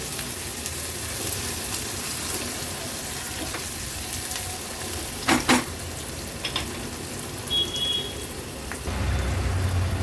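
Onion sautéing gently in oil over a low flame, a quiet, even bubbling sizzle with a few faint clicks of a utensil, steady and close, with nobody speaking.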